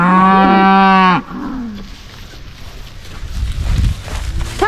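Several cows on a farm give a loud, close, drawn-out moo for about a second, followed by fainter lowing and rustling movement nearby, with a soft bleat near the end.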